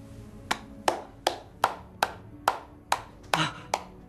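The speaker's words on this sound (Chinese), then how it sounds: "我也要为润之的话鼓掌。" Hands clap at an even, unhurried pace, roughly ten sharp, close claps at a 1920s gathering of students and teachers, with no talk over them.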